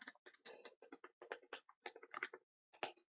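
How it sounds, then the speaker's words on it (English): Keys clatter on a computer keyboard in a quick, uneven burst of close, crisp taps, pausing briefly before a final couple of strokes. "I come in here and I type"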